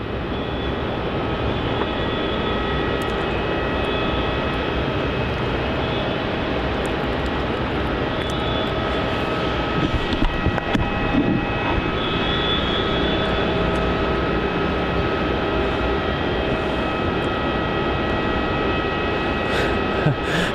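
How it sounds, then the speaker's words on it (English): A Qantas airliner, flight QF766 from Perth, lands on runway 16 at Melbourne Airport, its engine roar loud and steady throughout with a broad, continuous rumble and no pauses. "next arrival on runway 16 is going to be QF766 arriving in from Perth"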